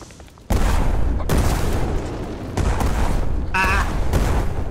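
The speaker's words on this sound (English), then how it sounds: "so many explosions going on C." Repeated heavy booms and blasts in the video game MEGAWEAPON rumble in bursts, loud and dense, with a brief electronic chime in the mix.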